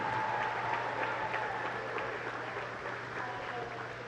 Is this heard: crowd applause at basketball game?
yes